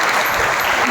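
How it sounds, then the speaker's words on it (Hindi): A college audience at a lecture at Kalyan Mahavidyalaya in Bhilai gives loud, close, continuous applause, a dense wash of many hands clapping at once. "एक बार ताली बजाइए हमारे"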